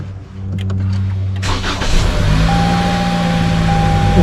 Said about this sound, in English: Now we're going to start up the engine.